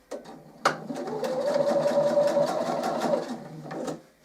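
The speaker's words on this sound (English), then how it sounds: "I'm going to top stitch along this edge just to keep the fabrics in place" A sewing machine runs a steady top stitch along the edge of a fabric zipped pouch with French seams, a close, even mechanical whir with rapid needle ticks, starting and stopping briefly.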